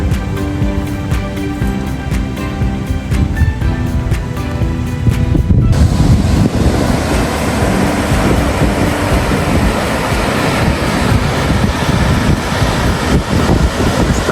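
River water rushes steadily at Lepreau Falls in New Brunswick, a loud, continuous broadband wash close by, thickening into a denser roar partway through, with no voices.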